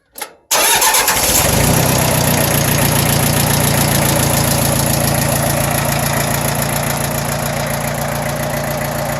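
A Mitsubishi MT1801D four-cylinder compact tractor engine cranks briefly and catches, then settles into a loud, steady, smooth idle close by with no talk.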